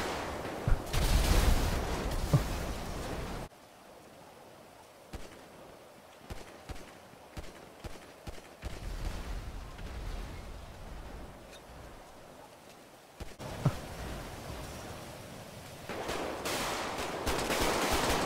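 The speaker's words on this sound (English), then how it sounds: "Oh, we're getting shot at. We're getting shot at." Gunfire in GTA V roleplay, with bursts of rapid automatic shots and scattered single cracks, loud at the start and end and quieter, more sparse shots in the middle.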